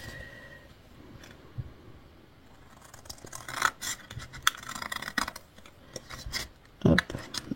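Scissors snip through paper during scrapbooking work on an advent calendar, with irregular close cuts, rustling and scraping of paper growing busier toward the end.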